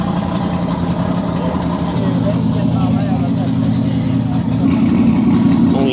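A four-wheel-drive car on slicks with a manual gearbox accelerates down a drag strip at Streetweek Sweden, a steady loud engine drone that rises slightly in pitch, with people talking over it.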